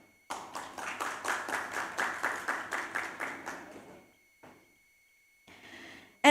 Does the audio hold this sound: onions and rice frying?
no